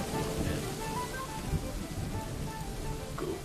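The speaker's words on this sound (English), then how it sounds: "Wow, it's really raining." Rain in the game Dwarf Fortress hisses steadily as a dense wash of noise, with a person talking faintly underneath.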